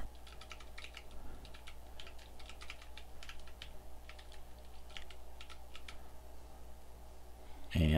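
Quick, light keystrokes on a computer keyboard while renaming a filtered results table in data analysis software, a steady run of soft clicks across most of the span that stops just before a brief louder thump at the end.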